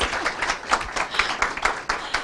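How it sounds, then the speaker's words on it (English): Applause breaks out at a town representative meeting, many hands clapping in a steady, dense patter that holds at a moderate level through the whole stretch, with no voices on top. "we'd like to give Pam Jones a round of applause"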